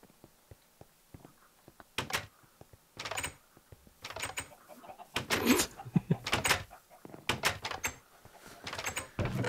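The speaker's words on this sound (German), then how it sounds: "Ich klopf dann am Glasdach" Sharp clicks and knocks on a glass roof in Minecraft, rising from sparse taps to dense bursts of rapid knocking that alternate with short pauses.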